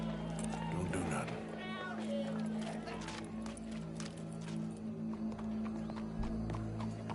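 Horse hooves clip-clop in Red Dead Redemption 2, a steady rhythmic patter under game music and voices, with a faint meow-like sound in the mix.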